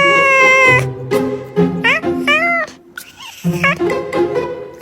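A cat screams in a bathroom, letting out loud, drawn-out yowls and rising wails that bend in pitch, with brief pauses between cries and a reverberant, close quality.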